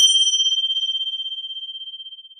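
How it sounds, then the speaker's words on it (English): A single bell struck to open a restorative yoga practice, one clear ringing tone that decays slowly with a gentle pulsing shimmer, alone in a quiet room. "clarify the space, sound of the bell"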